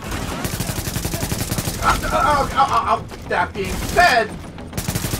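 Bursts of gunfire from a firefight in the video game The Division, scattered volleys mixed with game noise and heard under someone talking.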